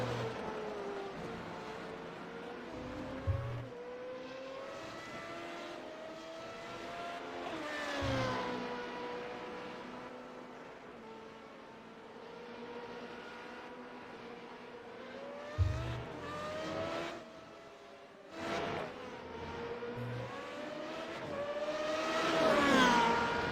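Formula race cars screaming around Twin Ring Motegi in a racing video game, their engines whining up through the gears and dropping on downshifts, with several cars sweeping past one after another and no talk over them.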